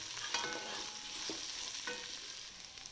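Ingredients for a chicken roast sauté in a pan with a bright, continuous sizzle, broken by a few soft scraping stirs from a utensil; close and fairly quiet, with no talking.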